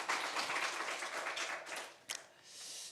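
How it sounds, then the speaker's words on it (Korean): A church congregation applauds during a Sunday service. The clapping is steady and fairly faint, fading toward the end with one sharper clap near the finish. "우리 하나님께 영광의 박수 올려드리겠습니다"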